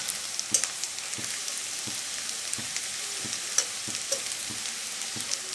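Chopped onions lightly frying in a pan give a continuous soft sizzle, with regular clinks of a spatula stirring every half second or so, close and steady with no talking.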